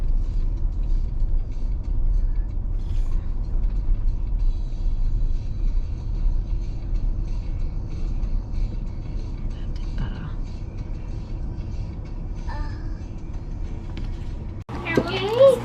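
Steady low cabin rumble of a car creeping along in heavy traffic, continuous and muffled, with a sharp change near the end.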